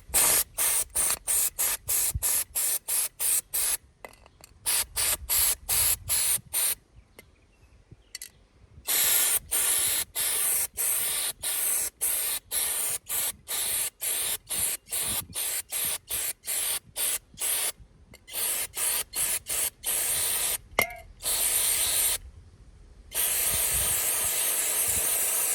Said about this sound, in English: just spraying that brake and parts cleaner in there cleans it up real